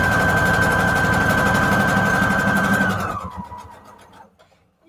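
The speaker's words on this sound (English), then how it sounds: "I've had a lot of practice with this sewing machine." A sewing machine whirs steadily with a high mechanical hum for about three seconds, then slows and winds down to near silence.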